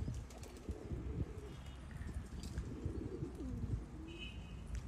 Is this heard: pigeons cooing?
yes